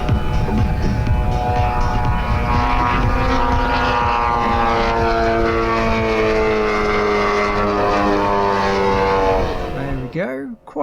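A large 100cc Horizon Beast X model airplane with an 89-inch wingspan drones past at an outdoor model air show, its petrol engine buzzing loudly and shifting pitch as it flies, with wind noise before it fades out sharply at the end.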